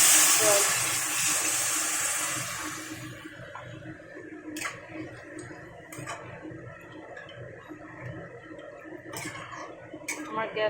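Water pours into a pan of egg curry for a few seconds, a bright gushing splash that stops abruptly, followed by quiet kitchen clinks and faint bubbling.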